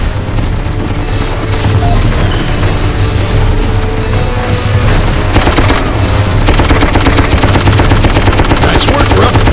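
A mounted gun fires sustained automatic cover fire in the video game Darkest of Days, loud dense bursts with booming impacts that intensify partway through, no talk.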